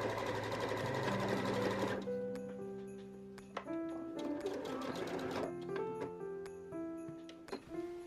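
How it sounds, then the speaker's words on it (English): A sewing machine runs a 1/4-inch side seam on a lace scrunchie, humming steadily for about two seconds before easing into lighter ticks and clicks with faint tonal ringing behind. "You're going to sew the side of your scrunchie, sandwiching your lace in between those two layers with a 1/4 inch seam allowance"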